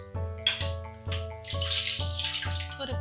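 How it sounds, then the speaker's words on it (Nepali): Water pours into a blended mango mixture for homemade mango drink, coming in several short splashing bursts over a low steady hum, close and moderately loud. "मैले अलिकति पानी यसमा राखेँ।"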